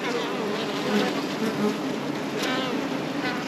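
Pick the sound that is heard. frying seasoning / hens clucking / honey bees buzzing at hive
honey bees buzzing at hive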